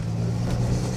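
A van with a 3-liter engine idling, a steady low droning hum with constant loudness and no clear revving, heard up close and alone.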